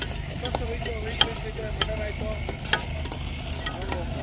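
Bread sizzling and frying in a pan, with steady crackling and several sharp stirring clicks and scrapes; faint voices sit in the background.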